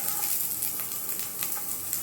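Onions and garlic roasting in a pan, giving a steady soft bright sizzle up close with faint scraping ticks and no talk.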